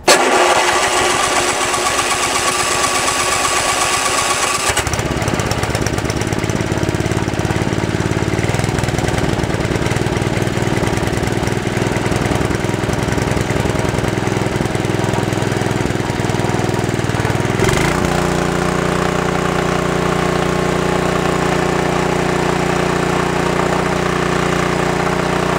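A small-engine lawn mower starts up after a few seconds of low rumble, then runs with a loud, rough, steady chug, shifting to a higher, smoother drone near the end.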